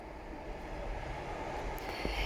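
A train passes on a railway line right beside a house with a backyard garden, giving a steady, loud rolling rumble of wheels on track throughout, close by and with no voices.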